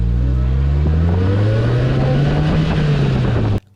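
A Polaris Slingshot three-wheeler accelerates hard, its engine rising in pitch with a gear change partway through, loud and close, before cutting off abruptly near the end.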